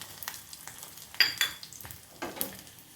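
Karuvadagam drops into hot ghee for tempering a mango sambar, setting off a few quick sharp crackles and pops over a faint sizzle, close and brief.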